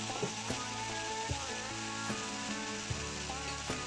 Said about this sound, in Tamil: நல்லா தக்காளி வதங்கின உடனே நம்ம மசாலா பொடி சேர்க்கலாம்